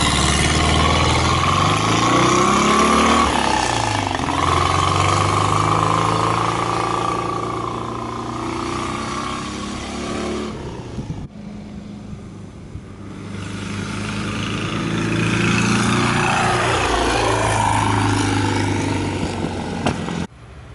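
A Volkswagen Kombi van drives a lap of a test track, its engine note rising and falling through gear changes and passes, loud and continuous with a brief dip midway.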